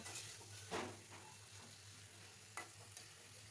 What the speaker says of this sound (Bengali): এখন আমি ভেজে রাখা মূলা আর মাছ দিয়ে দিচ্ছি।